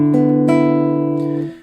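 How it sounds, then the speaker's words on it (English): Open strings on a Spanish guitar plucked just above the sound hole, a few quick plucks ringing together into a warm, sustained chord that decays after about a second and a half, close and alone. "If I pluck the strings just above the sound hole,"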